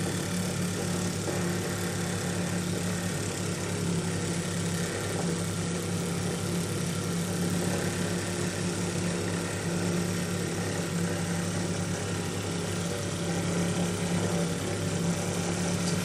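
Small single-cylinder oscillating model steam engine, a Ben Peake Major, driven by compressed air from a small compressor with no boiler. It gives a steady, continuous running chug with an even mechanical hum throughout and no voices.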